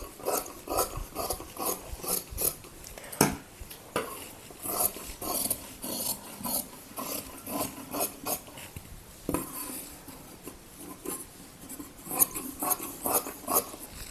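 Scissors snipping through blouse fabric by hand, a close series of irregular crisp cuts and rasping slides that repeat throughout, with no one speaking.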